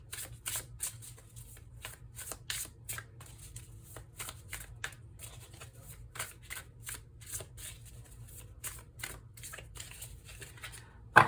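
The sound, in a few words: shuffling tarot cards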